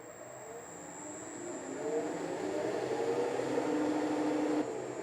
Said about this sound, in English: This lathe has some new high-tech variable speed controls. So I'll turn it on and set the speed between 500 and 700 RPMs